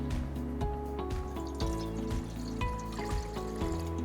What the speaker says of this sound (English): And pouring in the paste